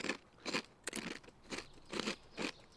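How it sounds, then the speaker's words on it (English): Crunchy mushroom being eaten in the survival video game Rust, heard as a run of six evenly spaced, crisp crunching bites, fairly faint, with no talk over them. "I'm just enjoying the sounds again of eating a mushroom. I know, the crunchy mushrooms."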